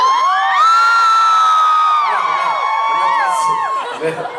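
A concert crowd at a Taipei live show screams and cheers loudly and continuously, with high shrieks and whoops layered into a dense, sustained roar that eases slightly toward the end.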